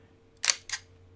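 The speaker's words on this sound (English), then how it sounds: "this is the sound of the mechanical shutter" A Fujifilm X-T100 mirrorless camera's mechanical focal plane shutter fires at 1/60 second, making a crisp, close two-part clack: a sharp opening snap followed quickly by a second click, alone against faint background hum.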